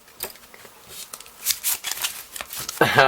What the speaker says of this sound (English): We can try and do a Charlier cut